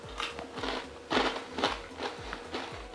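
Close, crisp crunching from chewing croutons in a chicken Caesar salad with romaine lettuce, a run of quiet irregular crackly bites with no talking.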